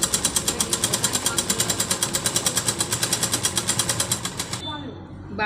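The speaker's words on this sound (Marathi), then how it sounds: "आता आपण अरे देव डबल शिलाई मारून घ्यायची आपण" A sewing machine runs a double line of stitching on a lined blouse, a rapid, steady mechanical chatter of needle strokes, loud and close, that stops near the end and leaves a brief quieter rustle.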